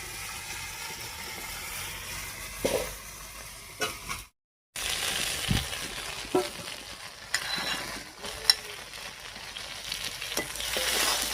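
Fried soybean chunks and boiled potato sautéed with spice masala in oil, a steady sizzle broken by scraping stirs and utensil clicks, with a brief dropout midway.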